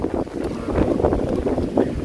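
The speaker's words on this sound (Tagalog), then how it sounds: "malakas ang hangin yan guys ngayon" Strong wind buffets the microphone in gusty, rumbling surges, with a steady roar beneath and no speech.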